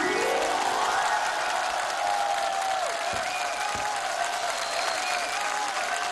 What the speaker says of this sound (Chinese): 你们掌声再热烈